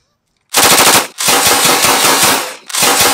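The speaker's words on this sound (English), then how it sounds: "light off 6 or 7 rounds out of the Thompson submachine gun in 45 ACP" A Thompson submachine gun chambered in .45 ACP fires two loud, close bursts of about six or seven rounds, the first short and the second longer with a brief gap between them.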